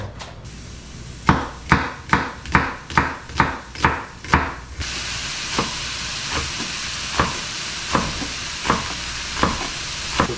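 Pork stir-fried in a pan for spicy jeyuk-bokkeum: a run of about nine sharp, regular scrapes or knocks, then a steady loud sizzle with softer periodic stirring clicks, close by and with no talk.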